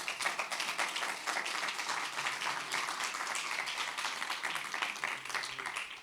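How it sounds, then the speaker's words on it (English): Sustained audience applause for a conference panel at the close of a session, dense steady clapping from a crowd holding evenly for about six seconds. "A big round of applause for our panel"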